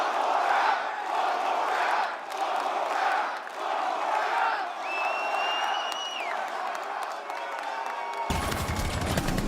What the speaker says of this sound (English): I understand what the crowd is chanting for